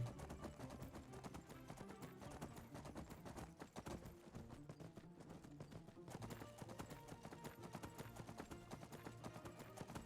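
Horse hooves clip-clop in a fast, steady rhythm in the video game Skyrim, quick repeated thuds running continuously throughout at a low overall level under a busy background.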